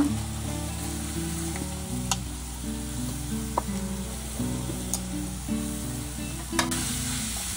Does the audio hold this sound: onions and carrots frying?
yes